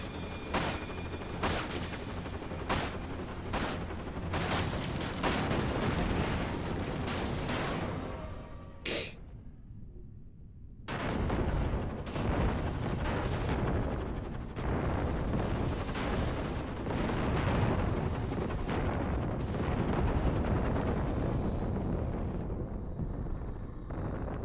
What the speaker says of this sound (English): that one guy's doing fireworks